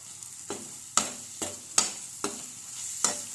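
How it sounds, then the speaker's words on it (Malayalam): Masala being sautéed in coconut oil for a prawn kothu chapathi, heard as a soft sizzle broken by a spatula stirring and scraping at an irregular pace, close by and fairly quiet, with no talking. "നന്നായിട്ട് വഴറ്റിമാവട്ടെ."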